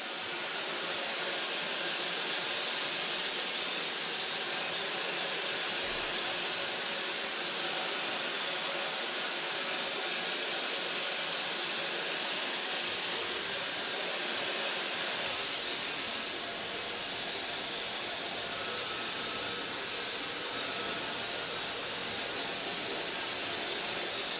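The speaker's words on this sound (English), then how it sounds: "So I blow dry with a large brush." A hair dryer blasts a steady, airy hiss while hair is blow-dried over a large brush, continuous and even for a long stretch with slight shifts in tone as the airflow moves.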